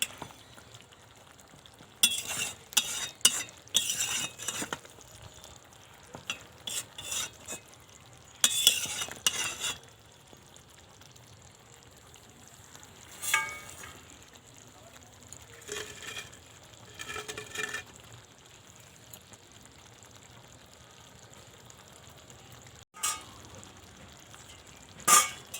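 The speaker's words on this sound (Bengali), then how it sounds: "সামান্য একটু চিনি দিয়ে আর একটু ভালো করে নাড়িয়ে দেব।" Chopped ash gourd is stirred with sugar in a frying pan: quiet, intermittent scraping and clinking strokes of a utensil against the pan over a faint sizzle, in short bursts separated by near-silent gaps.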